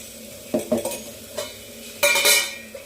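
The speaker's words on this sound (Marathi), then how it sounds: "व्यवस्थित तेलामध्ये मारून घेऊ आपण" Masala fries in hot oil while a spoon stirs it, producing soft sizzling under several sharp metallic scrapes and knocks, then a louder hissing surge near the end.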